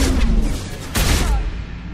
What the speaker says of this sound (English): especially when followed up with a point-blank blast from a spec'd-out shotgun